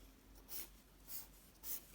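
Pen or pencil strokes on paper while hand-drawing a BCC unit cell, three soft scratchy strokes spaced about half a second apart, close and quiet over a faint background hiss.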